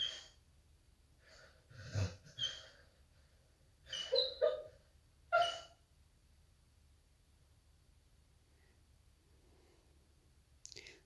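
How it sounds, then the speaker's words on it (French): A sleeping dog stirs through a nightmare indoors, giving a few short muffled snorts and breathy whimpers in bursts around the middle of an otherwise quiet stretch, with faint clicks near the end. "Vous entendez peut-être mon chien qui est en train de dormir et je crois qu'il fait un cauchemar, donc on l'entend pas mal."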